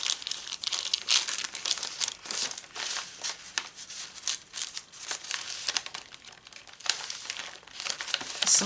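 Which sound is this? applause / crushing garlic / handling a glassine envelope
handling a glassine envelope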